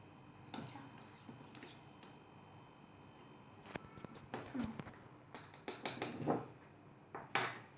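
Spoon stirring cocoa into mashed banana pudding in a bowl, a healthy homemade pudding: faint light clinks and scrapes, sparse at first, then quicker, denser taps and scraping toward the end, close by in a quiet room.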